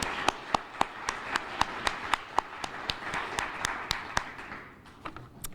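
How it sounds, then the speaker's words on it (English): Audience applause at a news conference held by U.S. Rep. Marcy Kaptur with Northwest Ohio groups: fairly faint, with distinct sharp claps in a steady beat that thins out and fades near the end. "Let's give them another round of applause."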